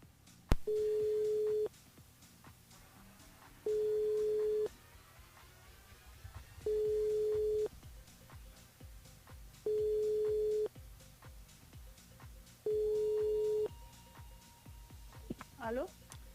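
Telephone ringback tone on a radio call-in line, five steady evenly spaced beeps about a second long with pauses between, heard close and clear over a faint background.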